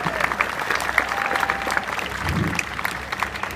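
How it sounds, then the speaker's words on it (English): A crowd at an outdoor charity walk claps steadily for several seconds, a dense patter of many hands at moderate distance with some voices mixed in. "Let's give him one more round of applause,"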